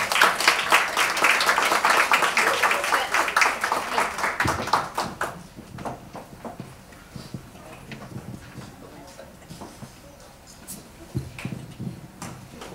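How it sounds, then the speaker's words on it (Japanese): Audience applause welcoming speakers back on stage for a question-and-answer session, loud dense clapping for about five seconds that thins into scattered claps and murmuring. "大きな拍手でお迎えください"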